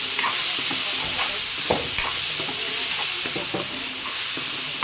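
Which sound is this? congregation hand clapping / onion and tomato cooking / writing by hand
onion and tomato cooking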